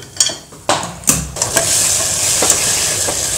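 Loud sizzling as tomatoes fry in a pan, with several sharp stirring scrapes and clanks early on, then a steady hiss of cooking.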